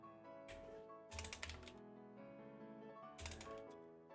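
Computer keyboard typing, with quick clustered bursts of key clicks, close and faint, separated by short pauses and with no speech.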